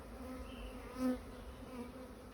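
Honeybee colony buzzing as a hive is opened for a spring inspection, a soft steady hum of many bees with one bee droning briefly closer to the microphone midway, quiet and with no talk.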